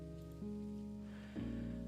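Steady rain falls outside in the video game Necrobarista, a soft continuous patter running under a low, droning musical hum for a couple of seconds.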